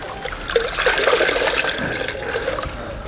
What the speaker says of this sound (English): Then I will take it to my rinsing bucket, which is over here.